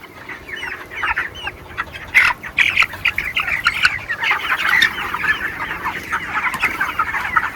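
A crowd of 21-day-old broiler chickens in a village poultry shed squawks and clucks continuously nearby, overlapping calls rising and falling with no speech.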